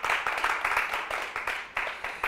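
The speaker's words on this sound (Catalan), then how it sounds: "Un fort aplaudiment per ells." Steady applause for a school team of contestants on a Catalan TV quiz show, with dense overlapping clapping sustained across the whole stretch and slight swells.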